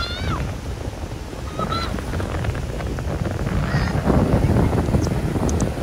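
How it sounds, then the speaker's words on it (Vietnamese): Strong sea waves breaking on a long beach beside a resort pier on a windy day, a steady loud wash with wind rumbling on the microphone and a few faint distant calls. "Sóng đánh quá, sóng mạnh quá."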